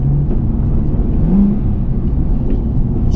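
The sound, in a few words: twin turbo Nissan 370Z NISMO downshift with rev matching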